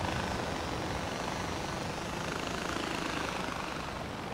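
A helicopter in the Far Cry 4 video game gives a steady, dense rotor and engine roar throughout, loud and close, with no talk over it.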